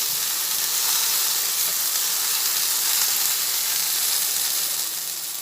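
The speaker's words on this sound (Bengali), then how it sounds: "ভেন্ডি ভাজা হচ্ছে সে অবস্থায় এর মধ্যে আমি কিছুটা নুন দিয়ে দিলাম নুন দিয়ে এটা আবার ভেজে নেব" Okra fries in a pan with a pinch of salt added, giving a steady, close, loud sizzle that hisses evenly throughout with no voices.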